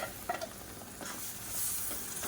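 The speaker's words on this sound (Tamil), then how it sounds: "இந்த தக்காளியை சேர்த்துட்டு நல்லா எண்ணெய் பிரிஞ்சு வரட்டும்" Tomato puree sautéing in oil for a Tamil kuzhambu, a close, steady sizzle with a few stirring scrapes near the start, fairly quiet throughout.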